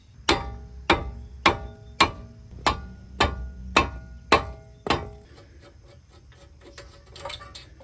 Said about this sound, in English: you can get an actual hammer and hit on the end of that ratchet to knock it loose